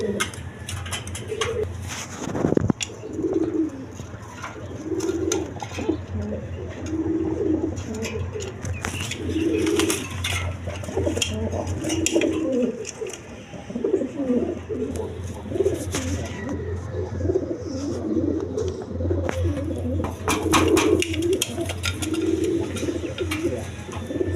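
At a pigeon market, several pigeons, including black-red Maltese birds, keep up a steady run of low throaty coos, near and overlapping, over faint crowd noise.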